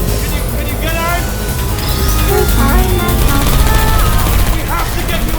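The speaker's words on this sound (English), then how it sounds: "I heard gunfire!" Dense, chaotic bursts of rapid gunfire crackle continuously in Portal Episode 2, mixed with loud voices and whistling electronic effects in a noisy game scene.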